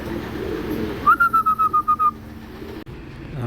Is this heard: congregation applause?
no